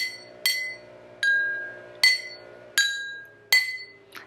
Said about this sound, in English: The glass that's the most full has the lowest pitch. The glass that's the least full has the highest pitch.